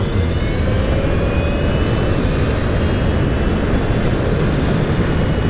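An electric bike hub motor run at full throttle while field weakening is tuned gives a loud, steady whirring drone with a faint rising whine that holds for the whole stretch.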